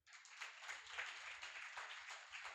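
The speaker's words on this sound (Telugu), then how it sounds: "చప్పట్లు కొట్ట" An audience at a Christian festival worship gathering claps together in a steady, continuous burst of applause lasting a few seconds, fairly soft and distant, with no voices over it.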